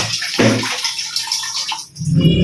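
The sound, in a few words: water tap running, then turned off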